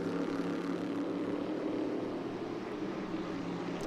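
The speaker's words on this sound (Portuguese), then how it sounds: "Você vai curtindo o som dos motores V8 da Stock Car." V8 Stock Car race engines, 5.7-litre American-built units, roar in a steady, unbroken drone at a São Paulo race, loud and continuous with no talk over them.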